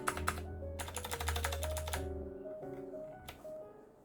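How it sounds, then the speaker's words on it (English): Fast, close-up clacking of Machenike K600 blue-switch mechanical keyboard keys in a dense burst, then a few separate presses spaced out over a faint tonal hum. "texting sound, enter sound,"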